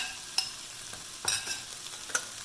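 Ingredients for Vietnamese beef stew (bo kho) are stirred in a pot over a soft sizzle, with a few scraping utensil knocks scattered through a quiet, steady cooking hiss, no speech.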